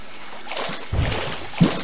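Water splashing as a character swims in Hollow Knight, a couple of soft sloshing splashes close by, the second slightly sharper, over a steady game background.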